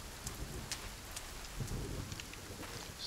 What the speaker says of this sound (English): Water is somewhat stormy, but it does mean our rain catchers will work.